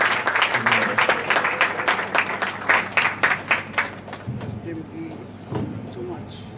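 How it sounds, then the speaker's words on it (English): Audience applause in a large room, a dense sustained wash of clapping that thins out near the end as a voice starts to speak. "give her a round of applause"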